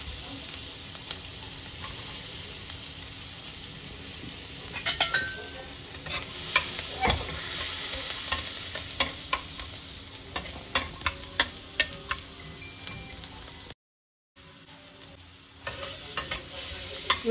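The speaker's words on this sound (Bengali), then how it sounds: "রসুনগুলো একটু লাল লাল ভাজা হবে।" Garlic fries in oil in a pan, a steady sizzle with frequent sharp scrapes and clicks as it is stirred. The sound is close and goes on throughout, with one brief dropout near the end.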